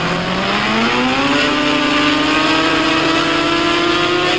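Motorcycle engine in the Indian Bike video game, a loud continuous drone that rises steadily in pitch as the bike accelerates, alone without talk.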